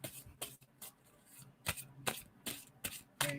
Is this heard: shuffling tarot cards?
yes